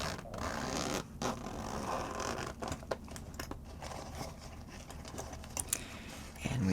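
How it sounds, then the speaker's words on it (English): A zipper on a small pumpkin carving kit bag slides open in close, quiet ASMR detail, with several short raspy pulls and soft rustles. "comes in this nice little bag with a zipper"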